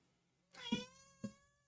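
A cat meows twice, a drawn-out harmonic meow followed by a shorter one, close and fairly quiet against a faint steady hum.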